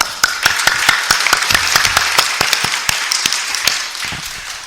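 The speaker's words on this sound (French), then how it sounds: "Let's clap for them" An audience at a fasting-themed church teaching session bursts into lively applause, with many sharp individual claps rattling steadily for several seconds at close range and no voices over them.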